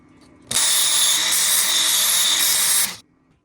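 A power sharpener fitted with coarse sandpaper grinds a blade in one loud, steady burst of about two and a half seconds that starts and stops abruptly, close to the listener.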